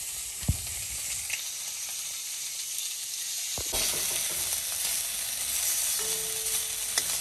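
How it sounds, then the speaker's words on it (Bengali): Fish frying in hot oil in a pan, a steady close sizzle and crackle throughout with a few sharp knocks of utensils, no talking. "হয়ে গেছে আমার মাছ ভাজা।"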